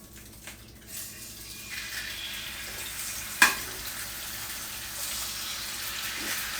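Two eggs frying in a pan give a soft, steady sizzle that rises gradually, with one sharp clack partway through, close but fairly quiet.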